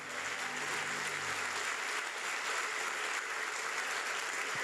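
Church congregation applauding, a dense steady wash of many hands clapping continuously at a moderate distance, with faint tonal music underneath at the start.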